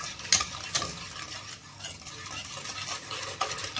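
A spoon works steadily through a papaya halwa mixture with custard powder and sugar in a pan, making soft scraping and wet stirring sounds with occasional light clinks, close and fairly quiet, no talking.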